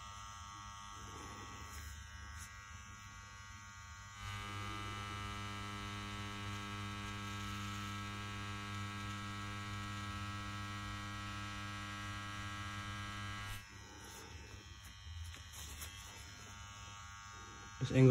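A tattoo machine drives its needle into human skin with a steady electric buzz that holds strongly through the middle stretch. Quieter handling and faint talk surround it.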